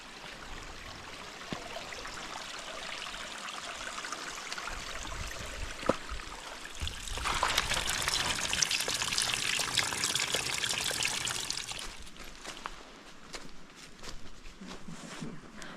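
A forest water stream flows past a trail campsite on the Bartram Trail, a steady trickling rush that swells louder midway as the listener nears, with occasional footsteps.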